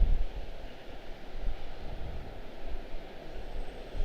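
An Allegiant jet rolls down runway 30 at Washington Dulles, heard as a steady, distant low roar with windy broadband rumble that holds evenly for about four seconds.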